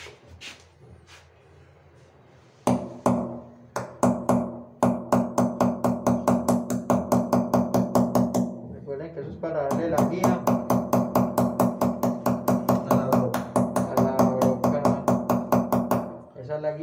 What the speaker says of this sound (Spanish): Luego cogemos el martillo, el clavo,